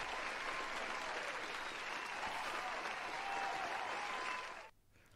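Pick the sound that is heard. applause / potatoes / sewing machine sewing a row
applause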